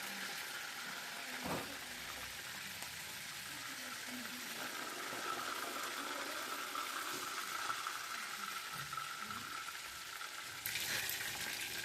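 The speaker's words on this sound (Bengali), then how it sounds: "আর মাংসগুলো অবশ্যই মিডিয়াম টু লো হিটে ভাজতে হবে তাহলে সুন্দর মতো ভাজা হয়ে যাবে" Meat pieces frying in oil in a pan on medium-low heat, a soft, continuous close sizzle with faint stirring and a light clatter near the end.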